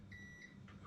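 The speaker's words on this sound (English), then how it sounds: "that beeping that you can hear is the bread that's now ready." A bread maker gives a couple of short, high electronic beeps when a loaf made with ginger nut biscuits is done, faint and slightly distant, in an otherwise quiet room.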